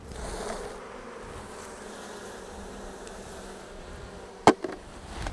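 Honeybees buzz steadily around an open beehive during mating-hive work, a continuous close drone broken near the end by a sharp knock.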